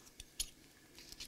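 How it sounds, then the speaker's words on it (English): A few short, crisp snips of scissors cutting through card, spaced irregularly in otherwise quiet surroundings. "You just take a pair of scissors"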